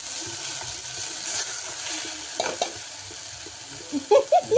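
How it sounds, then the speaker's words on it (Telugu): Mango halwa stirred and fried in ghee in a pan, a steady soft sizzle under scraping spoon strokes, with a few louder clinks near the end and no talk. "నెయ్యిలోనే వేయించి ఇది మొత్తం ఇట్లా కొద్దిగా 2 నిమిషాలు కలపాలి."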